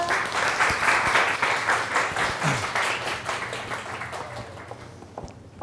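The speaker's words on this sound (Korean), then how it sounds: "큰 박수로 맞아드리겠습니다." A forum audience at a retail and business talk event applauds to welcome a speaker, dense steady clapping filling the room before tapering off toward the end.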